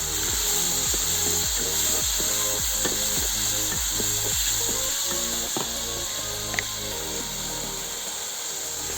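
Drumstick curry frying with spices and turmeric gives a continuous sizzling hiss under a regular, clicking stir of a ladle against the pan, repeating roughly twice a second before easing off.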